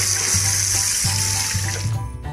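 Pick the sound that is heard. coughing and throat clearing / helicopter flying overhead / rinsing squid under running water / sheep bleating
rinsing squid under running water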